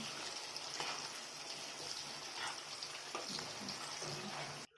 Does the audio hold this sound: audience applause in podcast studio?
no